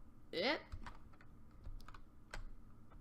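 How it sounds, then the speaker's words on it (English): Computer keyboard keys clack in a few quick separate taps during a Minecraft command session, close and fairly quiet, with a short voiced exclamation near the start. "Then press tab on your keyboard again."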